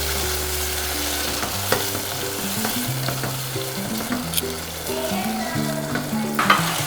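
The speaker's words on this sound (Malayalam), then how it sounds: "വേവിച്ച് വെച്ച മത്തനും ക്യാരറ്റും പാനിലേക്ക് നെയ്യ് ചേർത്ത് വഴറ്റുക." Cooked pumpkin and carrot sautéed in ghee in a pan, giving a steady close sizzle and frying hiss with repeated stirring scrapes and light clinks throughout, no talking.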